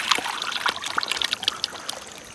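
Water trickles and splashes as it begins running through a jammed, clogged channel, a steady close-up dribbling stream with small irregular gurgles and drips throughout.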